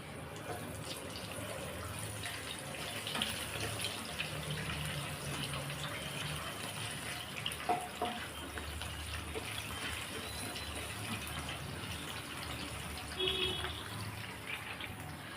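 Cashews and raisins fry in hot ghee for a temple-style sweet pongal, giving a soft, steady sizzling hiss with faint crackles throughout.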